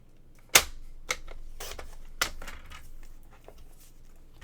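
Paper for a craft folio mat trimmed with sharp cutting clicks, one loud snap then several fainter ones spaced irregularly, close and alone in a quiet room.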